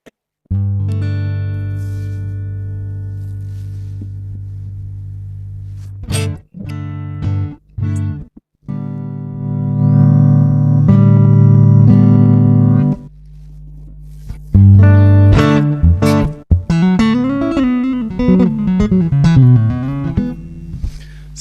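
Electric guitar played through a Sonicake app using a free NAM profile of a Super Reverb amp, sustained chords and single notes, then a bending lead line, loud and clean with no talk.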